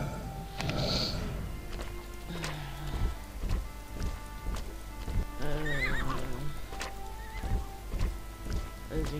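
In the Wars and Warriors: Joan of Arc game, a ridden horse whinnies loudly while its hooves clip-clop in a steady rhythm over a soft background hiss.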